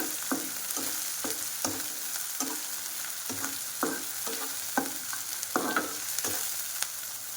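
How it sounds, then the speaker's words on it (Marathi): Cut green chillies fry in hot oil with a steady broadband sizzle, while a spoon scrapes and stirs the pan in regular knocks roughly every half second; close and moderately loud, with no voices. "मिरची चांगली आपल्याला फ्राय करून घ्यायची आहे तेलामध्ये"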